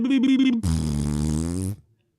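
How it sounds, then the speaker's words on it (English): A fart noise sound effect follows a short vocal bit: a low, buzzy, sputtering blast lasting just over a second, loud and close, then cutting off abruptly into silence. "didn't need the fart noise, if I'm being honest."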